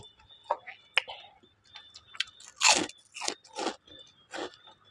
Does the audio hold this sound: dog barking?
no